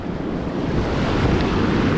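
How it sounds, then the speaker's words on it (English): Ocean surf on an Oregon beach, a loud, dense, continuous roar of breaking and receding waves close by, with wind buffeting the microphone and no voices. "I wait for the waves to recede, and then I walk out here, watch the incoming waves"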